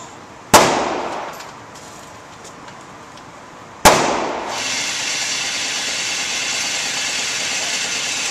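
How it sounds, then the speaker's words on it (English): Two sharp, loud gunshots from a Smith & Wesson M&P .45 ACP handgun, fired from the hip at close range about three seconds apart, each cracking and ringing out, with a low steady hum after the second. "shooting fairly quickly from the hip, point shooting only"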